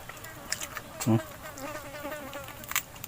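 A housefly buzzes faintly close by, a thin, wavering drone heard outdoors while freshly caught carp is being cooked, with brief louder knocks and no speech.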